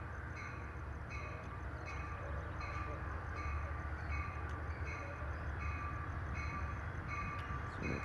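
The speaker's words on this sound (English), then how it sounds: "A P42 or a P40 DC is shoving the train," Passenger train pushed from the rear by a P42 or P40 DC diesel locomotive at a Glendale station: a steady, faint rumble of wheels and engine with rhythmic clicking over rail joints, heard from a distance with no talk.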